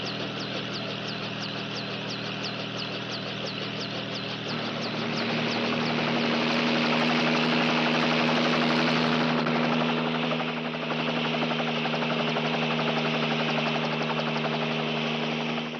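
A helicopter engine runs in a 1950s police TV drama, a loud continuous turbine drone with rhythmic rotor blade chopping, swelling slightly louder partway through.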